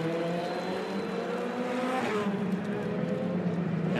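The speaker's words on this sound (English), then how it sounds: "He's going to do donuts at every single corner, and the fans love it." An IndyCar racing in Australia in 2008 spinning donuts, engine note rising and falling in sustained harmonic tones with tire squeal mixed in, heard from a distance under crowd and commentary noise.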